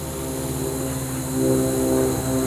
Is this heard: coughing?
no